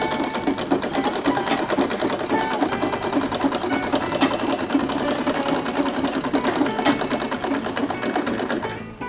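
Sewing machine stitching small bags for pamonha, a loud, steady, fast mechanical rattle of needle and gears running without pause close up, with no talking.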